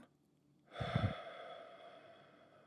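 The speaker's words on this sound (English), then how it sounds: "I'd like you to take a couple slow breaths in, out," A single slow, deep breath drawn in and let out during a calm guided relaxation exercise, soft and close, starting after a brief silence and fading gradually.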